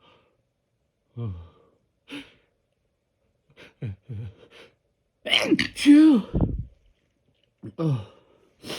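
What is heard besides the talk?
stifled sneezes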